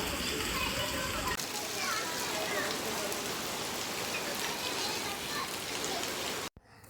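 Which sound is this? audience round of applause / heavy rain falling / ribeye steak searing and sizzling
heavy rain falling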